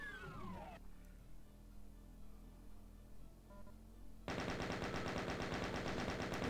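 Rapid weapon fire in the game Doom comes as a fast, even stream of loud repeating shots, preceded by quieter in-game sounds and a low background hum.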